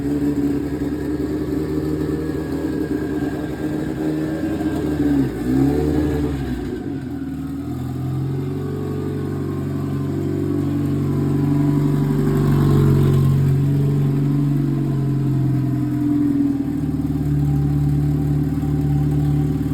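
An all-wheel-drive Honda Civic engine with upgraded cams and injectors revs with the throttle held, a loud close droning roar that dips briefly, then climbs and sustains at a higher pitch.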